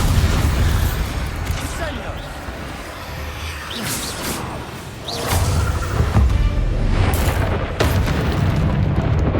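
Bombarda spell explosions in the Hogwarts Legacy video game: heavy, booming blasts with whooshing bursts over a continuous low rumble, several impacts spread across the stretch.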